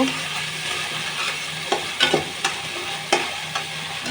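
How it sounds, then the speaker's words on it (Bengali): Spice paste for hilsa pilau fries in a pan with a steady sizzle, while a spoon scrapes and stirs in scattered clicks and knocks across the bed of frying noise, with no talk. "এখানে মশলাটা বুনে নিচ্ছি"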